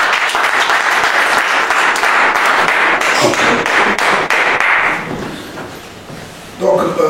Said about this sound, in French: On acclame le Seigneur très très fort